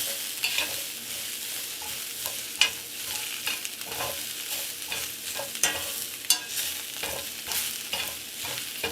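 Vegetables and peppers stir-frying in a hot pan for Mongolian beef, a steady crackling sizzle with frequent scraping and tapping of a spatula as they are tossed, close-up and free of talk.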